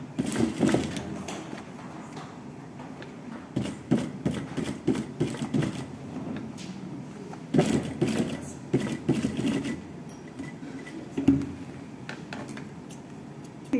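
An overlock sewing machine stitching a fabric seam, running in several short bursts of rapid mechanical clatter separated by brief pauses, close and moderately loud.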